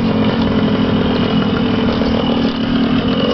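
A 1974 125cc dirt bike with its muffler fitted runs at a steady, loud drone close by, its engine note holding even and continuous from start to finish with no talk.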